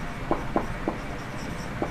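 Chalk or marker taps and scratches on a classroom board during a physics lesson, four short separate strokes over a steady background hum.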